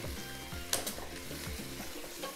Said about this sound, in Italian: una spolverata di pepe e facciamo rosolare un poco giriamo altrimenti si attacca